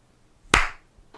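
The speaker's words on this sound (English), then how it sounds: "Can you clap now?" One sharp hand clap, close and loud, with a brief decay and a faint second tap just after.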